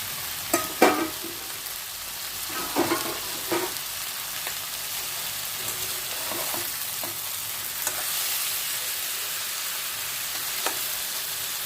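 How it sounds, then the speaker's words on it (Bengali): Boiled tomato and potato added to a hot pan and fried, a soft steady sizzle punctuated by a few sharper clatters and stirring scrapes early on, with no speech. "এই টমেটো আর আলু সেদ্ধ করে রেখেছি, সব দিয়ে দিচ্ছি।"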